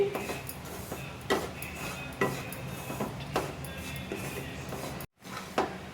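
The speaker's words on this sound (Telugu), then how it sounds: "ఇలా తిప్పుకుంటూనే ఫ్రై చేసుకోండి" Semolina (rava) being dry-fried in a pan on the stove for rava laddu, stirred continuously so it roasts evenly; steady close scraping and light ticking of the spoon against the pan, with a brief silent gap near the end.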